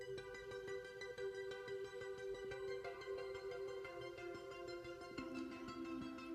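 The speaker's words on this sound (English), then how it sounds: "it's just like this arpeggiated synth that sits in the background behind the guitars" An arpeggiated synth pulses in the background of a rock track behind guitars, rapid even notes ticking under sustained strummed chords, quiet and continuous.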